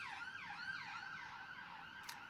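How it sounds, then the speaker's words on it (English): An ambulance siren wails outside in steady rising and falling sweeps, faint and distant, with a brief sharp click near the end. "Got an ambulance."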